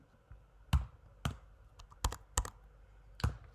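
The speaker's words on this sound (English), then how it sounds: "I'll just go ahead and type it out" Keys clack on a computer keyboard in a handful of separate taps, close and fairly faint, with short pauses between strokes in a quiet room.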